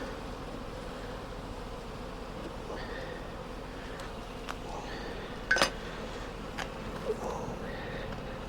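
Honey bees swarm around an opened hive, making a steady, close droning buzz throughout, with a few faint clinks and taps of equipment.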